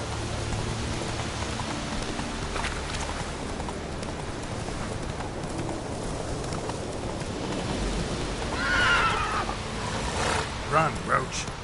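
Roach, the horse in The Witcher 3, runs with a steady rhythmic clatter of hooves under a constant wash of rain, and a voice speaks briefly near the end.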